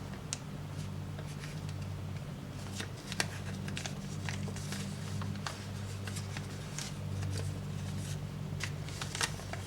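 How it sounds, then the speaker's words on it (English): Origami paper is folded and creased in a run of close, crisp crinkles and sharp taps over a low steady hum, with no speech. "And then unfold it and fold it up the other way."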